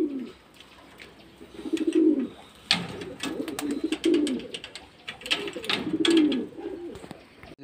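Pigeons coo inside a pigeon house, with several low, rolling coo phrases repeating every second or two at close range. Faint chirps and small rustles fill the gaps between phrases.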